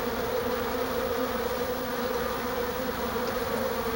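Honey bees hum inside their hive in a dense, continuous buzz that holds steady and close throughout, with no voices.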